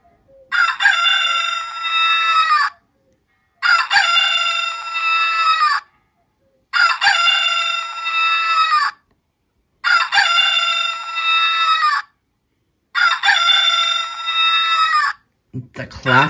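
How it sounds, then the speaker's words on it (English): A RadioShack talking watch sounds its rooster-crow alarm: five evenly spaced, loud electronic cock-a-doodle-doo calls, each about two seconds long with short silences between, followed by a brief click at the end. "The classic rooster."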